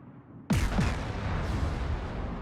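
A brawling battleship's secondary guns fire in World of Warships, opening with a sudden loud report and a second shot close behind, then a rumbling tail of further booms.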